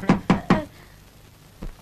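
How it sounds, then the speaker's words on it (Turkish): Three sharp, evenly spaced knocks strike a door up close, followed after a pause by a single softer knock. "Kapı vuruldu değil mi?"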